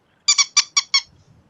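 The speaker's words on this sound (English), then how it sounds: "It's a squeaky toy." Five short, high-pitched squeaks in a quick, slightly uneven rhythm, close and crisp, like a rubber toy being squeezed repeatedly.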